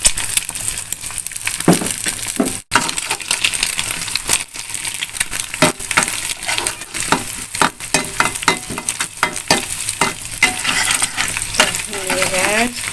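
Shallots and garlic stir-fried in a pan for instant noodles with vegetables, loud steady sizzling with frequent scraping and clinking strokes of a utensil against the pan, close up and without talk.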